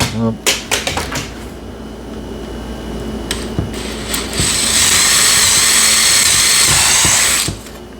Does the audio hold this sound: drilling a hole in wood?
yes